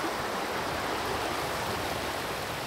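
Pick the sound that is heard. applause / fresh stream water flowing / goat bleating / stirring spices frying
fresh stream water flowing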